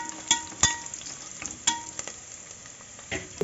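Cashews and raisins frying in ghee in a pan for a Tamil rice-flour sponge cake, giving a soft steady sizzle with a few sharp clinks of a spoon stirring against the pan.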